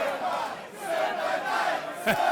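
A crowd at a white collar boxing match in London roars and cheers continuously, a dense wash of voices with a brief sharper shout near the end.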